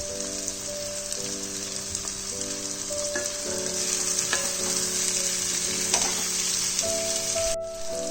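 Vegetables frying in a pan for a hilsa-head and Malabar spinach chorchori, a steady broadband sizzle running throughout with a low tonal hum beneath it and no voices.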